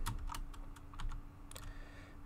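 Keys on a computer keyboard clatter in irregular bursts and scattered single taps, quiet and close, over a faint steady hum with no talking.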